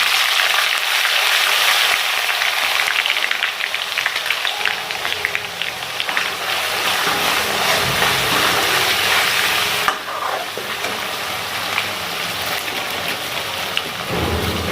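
Ginger and garlic paste frying in a pan for dhaba-style fried daal mash, a loud, steady crackling sizzle that runs without a break and dips slightly partway through.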